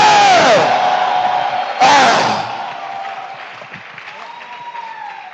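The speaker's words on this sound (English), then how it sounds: "Clap your hands." Church congregation clapping and shouting together at a preacher's call, a loud burst of cheering that drops off, swells again sharply, then fades to scattered claps and voices.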